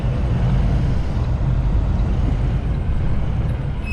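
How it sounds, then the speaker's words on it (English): Loud truck brakes on a big rig in cold, snowy weather, heard as a steady dense rumble and hiss that holds for several seconds with no talk. "Why is my brakes so loud?"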